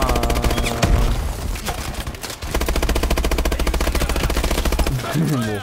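Call of Duty Advanced Warfare video game gunfire rattles in loud, rapid automatic bursts nearly the whole time, with a brief pause and a swooping electronic effect near the end.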